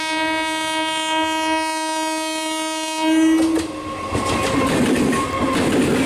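A local train running from Pune to Malavli sounds a loud, sustained horn for about three seconds, then rolls past with heavy rumbling and rattling wagons, close by and with no voices.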